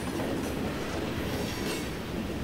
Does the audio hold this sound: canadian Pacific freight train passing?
yes